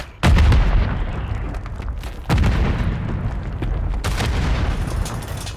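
Heavy gunfire in a competitive ranked shooter match, three booming blasts each trailing into a dense, sustained roar of rapid shots and rumble, loud and close with no speech.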